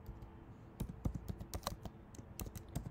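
Someone typing code on a computer keyboard, close and quiet: irregular bursts of soft key clicks with brief pauses between, heavier thumps at times, and no voice.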